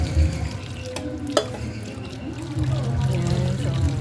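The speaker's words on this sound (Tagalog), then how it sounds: "Ayan, hugas po tayo ng hipon." Shrimp rinsed under running water at a market stall, a steady tap flow and splashing in a sink without a basin, with voices talking over the washing.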